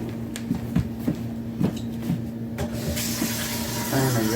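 Water running from a sink tap while hands are washed in a kitchen, a steady splash under scattered clicks and knocks, swelling louder and brighter near the end, no talk.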